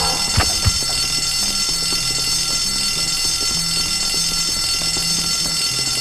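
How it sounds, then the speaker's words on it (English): A school fire alarm in the video game Bully rings continuously as a loud, harsh electronic bell, with faint game music and a couple of brief thumps early on. "Whoever pulled that fire alarm, you're going to burn in hell!"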